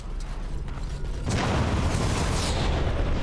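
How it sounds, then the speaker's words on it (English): Explosions in Dragon Age: Origins, a sudden loud boom that breaks into a sustained rumbling roar over steady game ambience, with no talking. "Those exploding things are really annoying, by the way."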